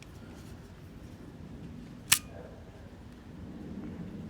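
An Agfa Silette I film camera fires its shutter in bulb mode, giving a single crisp mechanical click in a quiet room over a low steady background hum.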